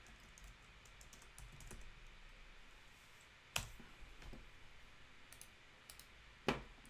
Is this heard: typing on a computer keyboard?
yes